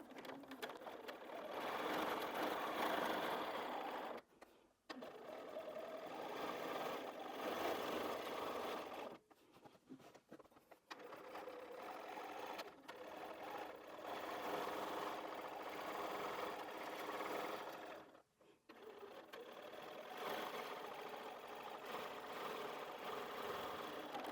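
Sewing machine doing free motion quilting with a BSR stitch regulator, a fast steady mechanical whir running in long stretches broken by a few brief stops, close and continuous, with no voices.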